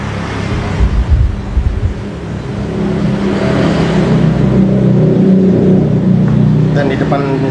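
Steady road traffic picked up by a Takstar SGC-600 condenser microphone, vehicles droning and revving nearby, a continuous engine rumble that builds and holds.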